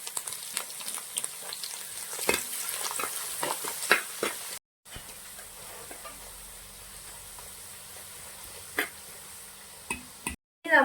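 Chopped garlic and ginger sauté in a pan for Kuttanad-style fish head curry, with a soft continuous sizzle broken by sharp, close stirring clicks and scrapes and one brief silent gap midway.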